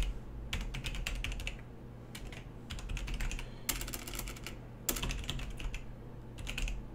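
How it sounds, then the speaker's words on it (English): An email address is typed on a computer keyboard in rapid, close clacking keystroke bursts, broken by short pauses and a few heavier key hits, with no speech. "In this case, I'm gonna go ahead and type that in."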